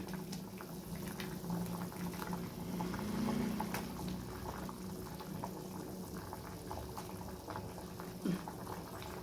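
Egg paniyaram curry (kulambu) boiling in a pot, with a steady, close bubbling and gurgling simmer running throughout and one small pop near the end, with no talking.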